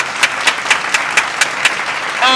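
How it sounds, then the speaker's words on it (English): A small group claps in slow, evenly spaced beats, about eight sharp hand claps over a dull background murmur, followed by a brief tonal sound at the end. "Y'all give them a clap."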